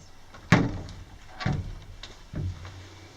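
An old wooden mine door at Moorehouse Mine in Death Valley swings open with three soft thuds and knocks spaced about a second apart, close by and fairly quiet.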